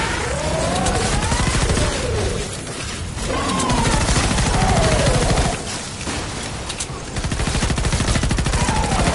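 A weapon in Fortnite Save the World fires in rapid, continuous bursts, a loud dense rattle of shots that runs almost the whole time with short pauses between volleys.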